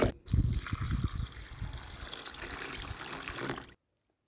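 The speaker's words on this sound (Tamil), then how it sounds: "இந்த அரிசி பருப்பு ரெண்டையும் தண்ணி ஊற்றி" Water pours and trickles steadily onto rice and lentils in a container, a close splashing stream that runs for a few seconds and then stops abruptly.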